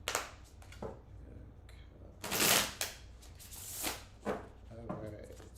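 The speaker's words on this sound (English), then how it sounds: "I'm gonna shuffle 1 more time." Tarot cards shuffled by hand in a run of close, crisp riffles and taps, with a loud burst in the middle and several shorter snaps after, while a person talks over parts of it.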